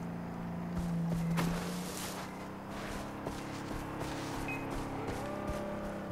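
Car engine in the Far Cry 3 video game hums steadily while driving up, with a low droning tone, a brief louder surge early on, and light rustling and scattered game noises throughout.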